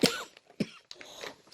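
A person coughs three times in quick succession indoors, each a short harsh burst close to the listener, with brief pauses between and no talking.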